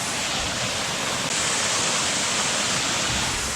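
A waterfall at Llanwonno in South Wales pours with a steady, close, full-bodied roar of rushing water that holds level and unbroken throughout.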